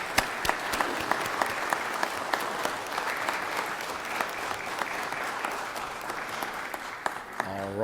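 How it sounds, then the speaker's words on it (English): Sustained applause from an indoor audience in the Georgia Senate chamber, steady clapping with a few sharper claps standing out, tapering slightly near the end. "If you'll give them a round of applause up there and here."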